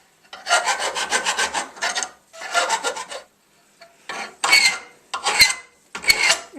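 A hand file rasping burrs off metal on a trailer project, in bursts of quick back-and-forth scraping strokes separated by short pauses, close and clear.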